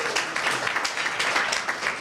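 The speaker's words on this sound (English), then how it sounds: "Give yourselves a round of applause." Luncheon guests at the Tower Club applauding themselves, a brief burst of dense, continuous clapping from a roomful of people, fairly close and steady.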